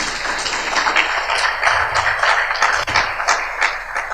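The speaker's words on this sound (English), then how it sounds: "I think it's a perfect place to give ourselves a round of applause." Audience at a lecture hall event applauding, a dense steady wash of many hands clapping at once, loud and close throughout with no voices over it.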